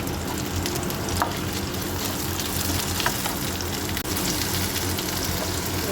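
Shallots, garlic and dried red chillies sautéing in a hot pan with a loud, steady sizzle and crackle that runs unbroken throughout, close up and without talking.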